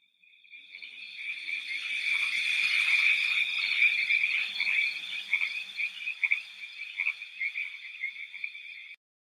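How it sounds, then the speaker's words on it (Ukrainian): A dense chorus of frogs croaking steadily on a river at night, many voices overlapping into a continuous trilling mass, with no other sounds. "На річці кумкають жаби."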